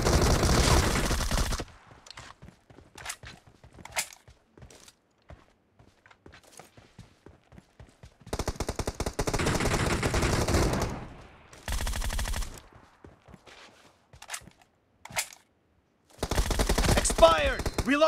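Gunfire during a team shootout game sounds in dense bursts separated by quieter stretches of scattered sharp clicks and taps, all close and loud.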